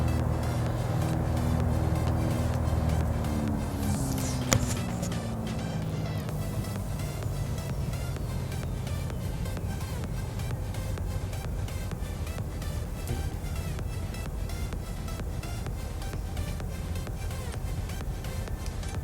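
Steady engine drone of a Piper PA-44 Seminole twin taxiing in Microsoft Flight Simulator 2020. After an early swell and a brief thump, the engines hold a loud, even hum with no talk.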